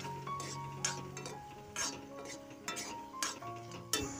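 Rice flour being stirred into taro flowers in a metal pot, with scraping, clinking spoon strikes and soft stirring in irregular bursts, close by and moderately loud.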